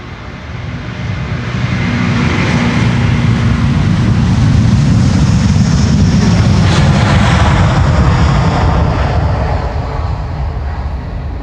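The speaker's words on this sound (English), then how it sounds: "Before that, Delta Airlines Flight 135 to Detroit, Michigan" A Delta Airlines airliner roars as it takes off from the Polderbaan runway at Schiphol, a loud, steady engine rumble that swells and then eases slightly over several seconds.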